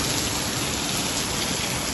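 Steady, dense first monsoon rain pouring down on farmland in Punjab, a constant even hiss of drops on surfaces with no pauses.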